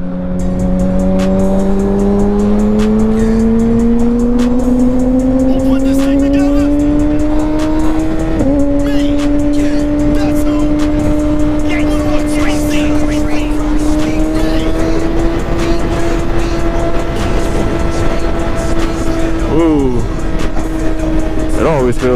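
A Kawasaki ZX6R 636 sport bike cruising on a highway, its engine droning loudly and steadily with the pitch slowly rising through the gears, over constant wind roar.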